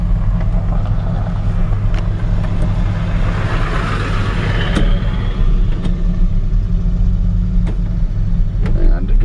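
A 1965 Ford F100 pickup's engine drones low and steady while driving, heard from the cab with wind and road rumble and a few light clicks throughout.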